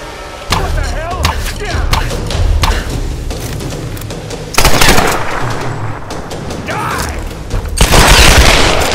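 Gunfire bursts from Tomb Raider: Definitive Edition, loud and dense, with sharp volleys at the start, midway and near the end over a rumbling combat backdrop and brief talk.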